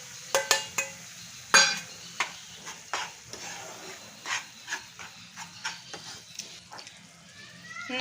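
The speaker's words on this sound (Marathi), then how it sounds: "आता आपण हे नाचणीचं पीठ भाजून घेऊयात।" Finger millet (ragi) flour roasting in ghee in a pan, with a string of sharp clinks and scrapes from stirring over a quiet low hiss, irregular and close.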